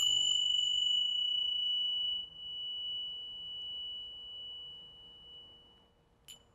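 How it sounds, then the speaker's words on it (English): A small Ting Sha bell rings clearly, its bright tone lingering and slowly fading, followed by a faint second chime near the end. "So we'll start using our Ting Sha bells"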